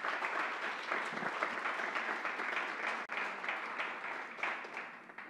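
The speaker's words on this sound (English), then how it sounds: "we should give them a round of applause just for their energy and their effort" An audience at a Freedom School event claps steadily for a group of young people, a dense, continuous wash of applause lasting several seconds without pause.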